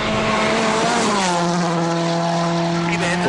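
A Subaru rally car races flat out through a stage at WRC Argentina, its loud engine holding a steady high note that drops in pitch around a second in, with commentary running over it throughout.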